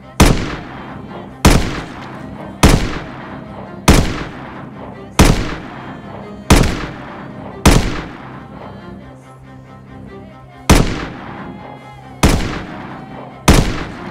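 Single shots from a gun fed by a 20-round magazine in the zombie survival video game Project Zomboid: about ten loud, evenly spaced reports, each with a short echoing tail, close and alone.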